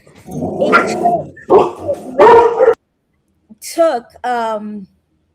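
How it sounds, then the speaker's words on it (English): A dog barks loudly and close, several sharp barks in quick succession, followed after a brief pause by a couple of higher, whining yips. "By the way, Nick, dog barks are always allowed."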